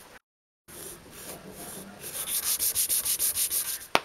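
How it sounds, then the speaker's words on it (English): Cutting string holes in a wooden instrument body: after a brief silence, a run of rhythmic rasping strokes builds, about a dozen rapid scrapes close up, ending on a sharp click. "I just cut out the smaller string holes."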